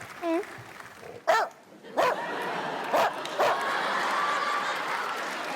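A person imitates a dog barking on a stage show, giving several sharp yips and barks spaced about a second apart, with a brief high whine at the start and a crowd murmuring underneath.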